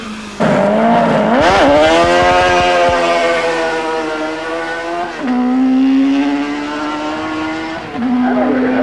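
A race car launches at the 1993 Australian Hill Climb Championship at One Tree Hill, Ararat, with loud engine revs, shrieking wheel spin and rising gear pulls that repeat as it accelerates away, close and dominant.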